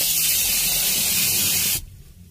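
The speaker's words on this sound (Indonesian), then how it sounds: "kita semprotkan setiap sisi-sisi AC, setiap sudut-sudut AC kita semprot" A steady, loud hiss of aerosol AC cleaner sprayed into a car's air conditioning vents, one continuous close burst lasting nearly two seconds before cutting off abruptly.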